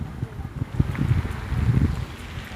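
Wind blowing outdoors among trees rumbles and buffets against the microphone in uneven gusts. No voices are heard.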